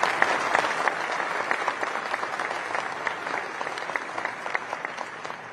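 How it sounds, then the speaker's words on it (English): A crowd in a hangar at a Space Force change of command ceremony applauds, giving a sustained, moderately loud patter of many hands with sharper individual claps standing out, and no speech over it. "So let's give them a round of applause for what they do today."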